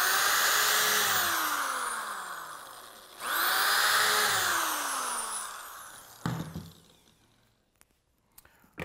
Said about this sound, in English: I'm going to go ahead and drill the holes, making sure that this is flush against the inside of the wood